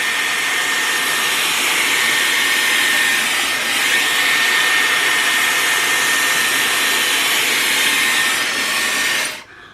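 A hair dryer blows steadily and loudly at close range while a brush works through the roots of straightened hair, a constant broadband whoosh that cuts off abruptly at the end.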